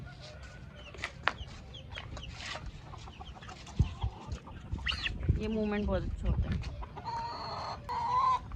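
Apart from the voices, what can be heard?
roosters crowing and clucking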